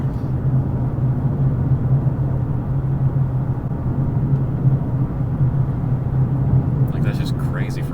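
A Lexus LC 500 gives off a steady, loud low-pitched engine rumble and drone that holds evenly throughout, close and continuous.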